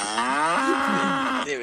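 A cow mooing sound effect played during a podcast, one long, loud, close moo with a rising then falling drawn-out tone, heard alone without talk.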